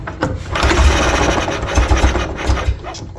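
The small four-cylinder engine of a 1932 Austin 7 Saloon catches and runs roughly, with a loud, uneven chugging idle and low knocking pulses throughout.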